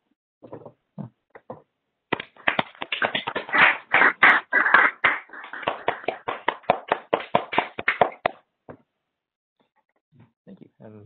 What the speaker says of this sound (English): I welcome everybody to unmute yourselves so we can give Siegfried a great big applause